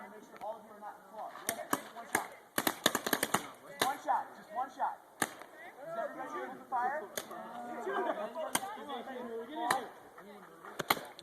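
Paintball guns pop in sharp, scattered volleys as a Civil War-style line of players fires at a retreat game, the cracks ringing out irregularly over constant overlapping talk and shouting nearby.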